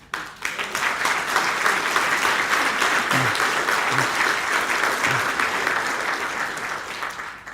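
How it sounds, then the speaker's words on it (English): An audience at a Manchester political speech bursts into loud, sustained clapping that starts abruptly and holds steady for several seconds before tapering slightly, with a few low thumps mixed in. "I didn't deserve that clap after that trick I played on you"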